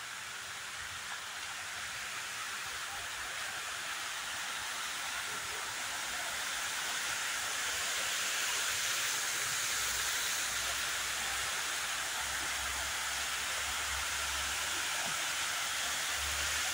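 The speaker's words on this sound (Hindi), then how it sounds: "आवाज़ देखो कितनी प्यारी आ रही है पानी के यहाँ से" Water spills down a small waterfall in a park, a steady broadband rush that swells slightly louder midway and carries on without a break, with no voices over it.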